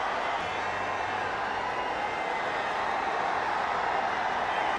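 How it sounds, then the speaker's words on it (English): A T20 cricket stadium crowd in an India versus Sri Lanka match roars after Bumrah takes a wicket, a dense, steady wash of cheering that holds evenly throughout with no clear individual voices. "And the crowd celebrating."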